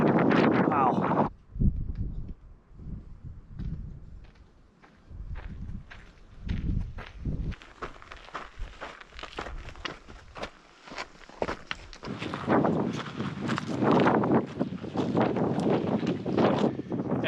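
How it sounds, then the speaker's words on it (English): Gusty wind blows through a sheltered desert valley in the Spirit Mountain Wilderness near Lake Mohave, roaring loudly in bursts that buffet the microphone and ease off in between, with crunching footsteps and some talk mixed in. "It's so windy today."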